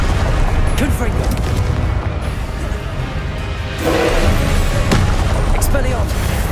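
Confringo blasting spell exploding in the Hogwarts Legacy video game, a loud, dense booming roar that fills the whole stretch and surges again partway through, with a voice briefly present.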